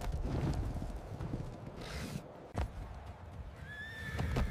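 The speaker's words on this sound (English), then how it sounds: "Horses reared violently onto their hind legs." Horses neigh and whinny amid galloping hooves on an ancient battlefield, with loud, shrill calls breaking over a rumbling stampede of clip-clopping hooves.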